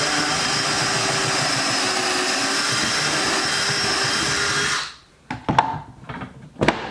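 Power drill boring pocket holes in wood for heavy-duty garage shelves, a loud steady whine for several seconds that stops abruptly, followed by a few knocks and clatters of handling the jig and board.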